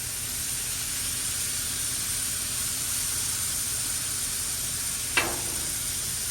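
A pound of shrimp fries in oil on a griddle with chorizo, giving a loud, even sizzle and hiss that runs the whole time, broken once by a short scrape.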